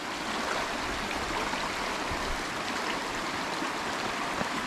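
A strong stream of water rushes through the Girnar jungle near Junagadh, a steady broadband roar that stays even throughout with no voices.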